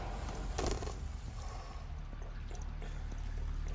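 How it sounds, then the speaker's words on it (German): Water flows steadily in the Frozen Wilds area of the video game Horizon Zero Dawn, a continuous rushing wash with a brief louder pouring burst near the start. "Das Wasser fließt, nur nicht, wo es hin soll."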